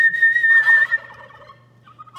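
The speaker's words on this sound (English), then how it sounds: "You see that they gobbled back to me." A sharp high whistle is answered by a burst of turkey gobbling on a farm, rapid and fairly close, which fades to quiet with faint calls at the end.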